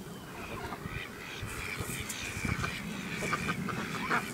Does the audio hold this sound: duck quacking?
yes